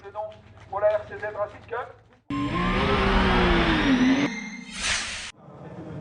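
Peugeot RCZ Racing Cup cars at the Circuit Paul Ricard, Le Castellet, in the 2013 French championship: a loud, steady engine roar swells over several seconds with a rising pitch, then cuts to a sharp burst, after an opening stretch of commentary.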